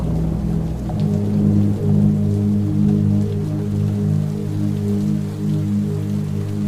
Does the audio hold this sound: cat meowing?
no